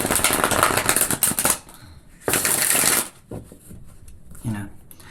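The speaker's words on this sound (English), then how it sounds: "I just want to shuffle these because we've got all those fives and shizzle" Tarot cards are shuffled in riffling bursts, a long dense shuffle, a pause, then a second burst, with quieter handling afterward and a person talking briefly near the end.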